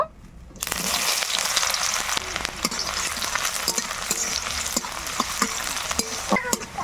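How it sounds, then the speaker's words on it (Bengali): Chopped onions sizzle loudly in hot oil in a pan for ghugni, a steady frying hiss broken by frequent stirring scrapes and clicks, with no talking. "পেঁয়াজ ভালো করে ভেজে নিলাম"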